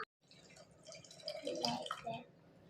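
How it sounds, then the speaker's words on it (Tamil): Water poured from a glass onto soaked rice in a pot for kuska biryani, a close, quiet trickle and splash lasting a couple of seconds, building slightly toward the end. "இதுல கிளாஸ் தண்ணி ஊத்திக்கலாம்"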